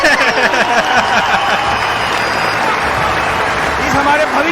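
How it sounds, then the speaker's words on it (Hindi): Audience applause at a Team Freedom gathering, a sustained burst of dense clapping from many hands with some cheering, loud and continuous throughout. "हमारे भविष्य के सीपी के लिए जोरदार तालियां।"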